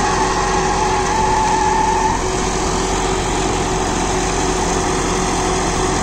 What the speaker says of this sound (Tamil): லைட்டாக கீச்சு கீச்சுன்னு ஒரு சவுண்டு வருது பாருங்க, அது AC கம்பரசரோட sound, fan belt sound